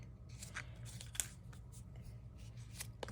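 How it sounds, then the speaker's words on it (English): Scissors cut strips of paper in a quiet room, producing several close, crisp snips and slicing rasps in an uneven rhythm, with no voices. "what I'm going to do with my strips that I cut is we are going to cut these"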